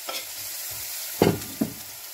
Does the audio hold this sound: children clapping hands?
no